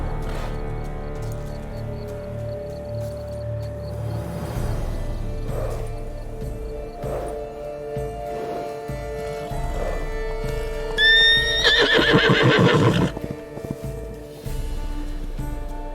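A horse whinnies loudly around the middle, a rising and falling neigh over steady ambient game music and soft hoof movement, in The Witcher 3: Blood and Wine.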